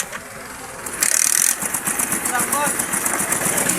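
A motorcycle engine fires up and settles into a rough, sputtering idle, close and fairly loud, with someone talking over it.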